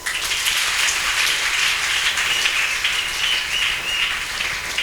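A church congregation claps for God in a fast, dense, steady wave of applause that fills the room evenly for several seconds, with no voices rising above it.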